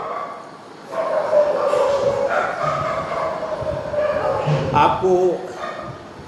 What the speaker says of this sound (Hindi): कुत्तों की आवाज़ यहाँ पर आती रहती है गलियों में